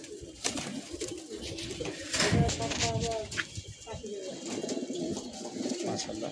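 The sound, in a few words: breeder pigeons cooing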